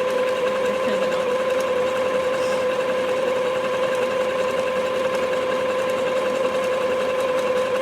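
A Singer Heritage sewing machine runs a zigzag stitch, giving a steady close mechanical hum and whir with faint rhythmic ticking that carries on without a break.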